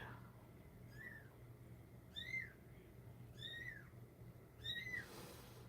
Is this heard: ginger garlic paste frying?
no